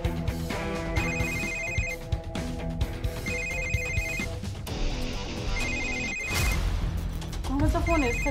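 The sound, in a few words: telephone ringing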